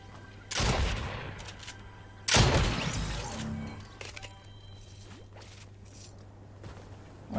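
Gunfire in Fortnite Chapter 3: two loud bursts of shots, the second a longer crashing volley, over a steady low hum, with quieter rattling afterward and no talk.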